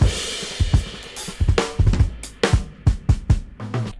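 A drummer's solo plays back as a close, punchy kit groove: sharp snare and kick hits in quick, syncopated subdivisions with cymbal wash between strikes.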